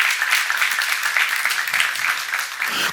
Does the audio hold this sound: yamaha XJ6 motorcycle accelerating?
no